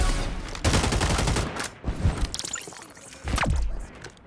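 Gunfire in the FragPunk shooter game comes in bursts of shots mixed with impacts and game effects, loud and close, with a brief lull partway through.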